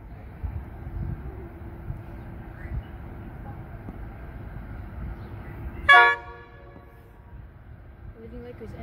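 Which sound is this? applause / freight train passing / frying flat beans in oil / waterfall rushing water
freight train passing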